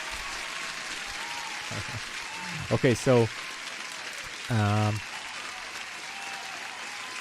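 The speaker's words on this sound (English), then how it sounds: "You get an applause too for being here" Applause sound effect played during a live futures trading stream, a steady burst of clapping running under a man's speech, with brief louder tonal bits partway through.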